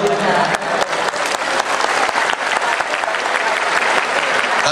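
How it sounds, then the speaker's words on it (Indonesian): A gathering at an anti-drug outreach visit applauds the governor, a sustained, loud wash of many hands clapping with faint crowd murmur mixed in. "berikan tepuk tangan kepada Pak Gubernur"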